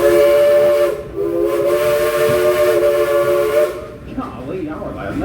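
A steam train's whistle blows in a long, loud, sustained blast with steady harmonic tones, then cuts off near the end, leaving hissing steam and background crowd noise.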